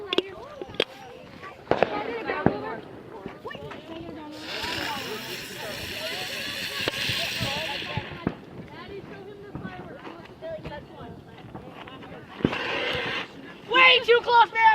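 Thrown fireworks go off close by outdoors, with hissing bursts and scattered crackling pops while people shout and talk throughout.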